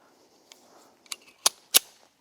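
A SIG P365 X Macro pistol fires three sharp, fairly faint cracks in quick succession after a soft click, each report short and crisp with a brief tail, and no voices.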